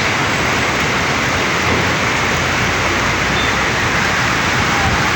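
Steady, dense hiss of rain fills the whole stretch, constant and broadband with no breaks.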